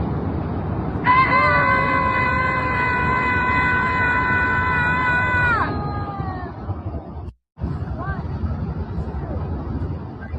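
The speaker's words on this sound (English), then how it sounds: "A Portland group, they get together every Wednesday and scream at a park in protest of Donald Trump." A Portland protest group screams together in a park: a loud, sustained group scream lasting several seconds, followed by a brief cutout and then crowd and outdoor noise.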